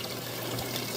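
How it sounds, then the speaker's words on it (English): Cleaner concentrate being poured into a washing machine full of microfiber towels, a steady wash of liquid noise without a break, close and moderately loud. "I take my 4 ounces of Infinite Purpose Cleaner Concentrate and I just put it"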